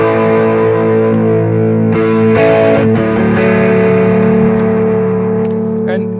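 An electric guitar with distortion, played through humbucker pickups on an SG with Jimmy Page wiring, rings out sustained, loud chords with a few pick-attack changes, layered and reverberant.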